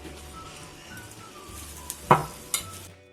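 Ground kebab masala for beef shami kabab being mixed by hand with green coriander, green chilli and onion, a soft close stirring rustle with a few sharp knocks near the end.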